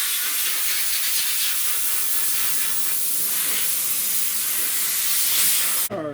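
Compressed air blows down a rusty 1970 Buick Wildcat car roof after cleaning, a loud continuous close hiss lasting several seconds before it cuts off abruptly near the end.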